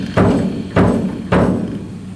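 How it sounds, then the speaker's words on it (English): Three heavy, evenly spaced thumps from the bass drum of an American Fotoplayer, a theatre sound-effects instrument, each landing with a deep boom that decays slowly before the next strike. "Then a bass drum."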